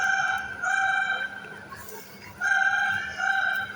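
A parrot at a bird park imitates a telephone ring with four bright, trilling bursts in two ring-like pairs and short pauses between them, close and fairly clear.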